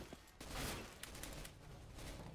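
Shotgun fire at long range in Counter-Strike: Global Offensive, a burst of sharp gunshots with a dense volley near the start and scattered later shots over steady game noise.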